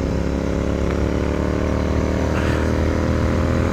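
Royal Enfield GT650 twin-cylinder motorcycle fitted with a BMC air filter, its engine running steadily with a loud, close, even exhaust drone throughout.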